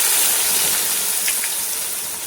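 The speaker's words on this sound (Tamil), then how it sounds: "அடுத்தது நம்ம கட் பண்ணி வச்ச வெங்காயத்தை போட்டுடலாம்." Chopped onions go into hot oil with spices for a Tamil chicken biryani, making a loud, continuous, close sizzling hiss that holds steady throughout.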